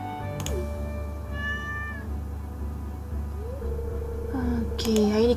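Cat meowing in the farming game Stardew Valley, a few short rising meows over steady game music, with a louder pair of meows near the end.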